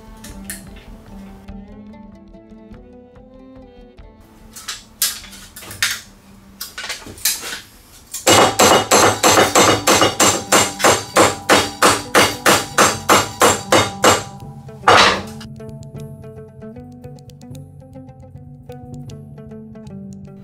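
Hammer blows flatten the edge of a drink-can shoulder piece on a makeshift surface without an anvil or vise, starting with scattered taps, then a fast, loud, evenly spaced run of sharp metallic strikes, then a last hit.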